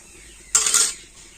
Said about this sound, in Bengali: এবার নারকেল কুড়োটা কড়াতে দিয়ে দিচ্ছি